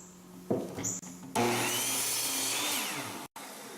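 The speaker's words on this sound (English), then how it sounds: "Just cutting some 2x4s." A miter saw cuts pressure treated 2x4 lumber in a loud, close whine that starts after a brief tap and runs steadily for about two seconds before cutting off abruptly.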